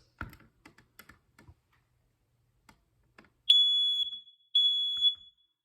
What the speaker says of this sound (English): So I'm going to push the smoke alarm now.